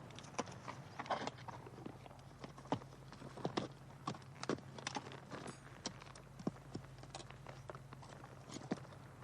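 Horses walk at a steady pace, their hooves clip-clopping in an even, repeated rhythm, moderately close against a quiet background.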